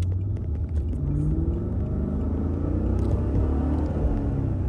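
A car engine rumbles steadily from inside the vehicle, low and droning as it drives, with a few light clicks near the start.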